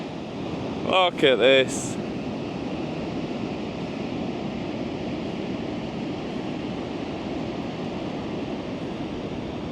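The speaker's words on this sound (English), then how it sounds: "Love this beach, one of my favourite ones" Waves wash along a beach on the Northumberland coastline near Bamburgh Castle, a constant breaking-surf rush mixed with wind buffeting the microphone; someone speaks briefly near the start, then the sea carries on alone.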